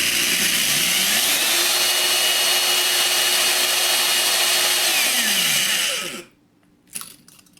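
A power drill spins up to twist a tiger wire coil stretched out with pliers, giving a loud, steady whirring drone with a rising pitch at the start that winds down at the end, followed by a short clatter.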